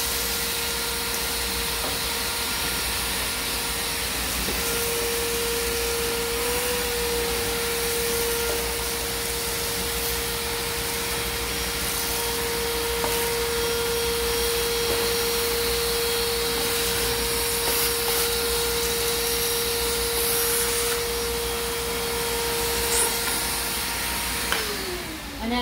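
Vacuum cleaner sucking debris from the levels of a chinchilla cage, a steady loud motor drone with a whining tone running almost the whole time, close by, with no talking.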